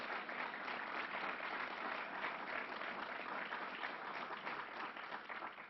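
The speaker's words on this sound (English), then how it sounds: "So let's give them another round of applause." Applause from the audience at a public gun violence announcement by the governor, a steady dense clapping that holds loud for about six seconds and then begins to thin slightly.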